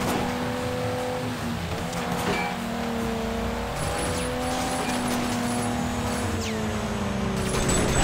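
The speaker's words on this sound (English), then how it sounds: "Holy shit, this is a good car." Car engine revving with squealing tires in the video game Sleeping Dogs, a continuous loud drone with shifting pitch as the car accelerates, the engine note sweeping up and down throughout.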